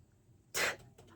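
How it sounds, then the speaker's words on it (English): A single short human sneeze, a sudden breathy burst lasting a fraction of a second, near and fairly soft against a quiet room. "Sorry, I had a sneeze."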